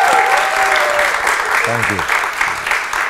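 Studio audience applause welcomes an actor onto a talk-show set, a steady wash of clapping that fills the room while a brief spoken thanks breaks through near the middle.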